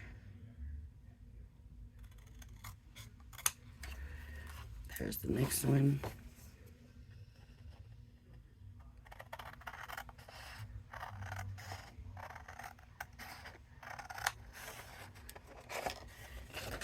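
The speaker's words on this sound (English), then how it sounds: "I'm just cutting right on the score line." Scissors snip through cardstock along a scored template line in short, close, crisp cuts. A voice talks over the quieter stretches and cutting sounds return through the remainder.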